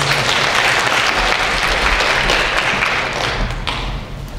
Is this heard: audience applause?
yes